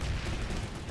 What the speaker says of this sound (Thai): เราโดนยิง